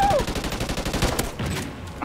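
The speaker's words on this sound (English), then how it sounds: "Sorry, I got a minigun." Minigun fire in the game Call of Duty: Ghosts, a dense rapid burst of gunshots in a continuous stream, loud and close, with a brief voice at the start.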